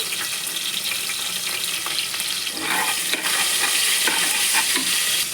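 Mustard seeds, cumin, dried red chillies, curry leaves and shallots crackle and sizzle in hot oil as a spoon stirs and scrapes through the pan, a steady close frying hiss with clicking pops and occasional scraping strokes.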